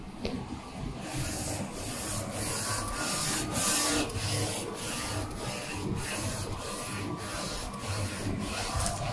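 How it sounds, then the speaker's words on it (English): A Focus Nebula 42F DTF printer runs steadily with a continuous mechanical whir and rubbing scrape, punctuated by regular soft ticks of the carriage moving back and forth. "Then printer start printing."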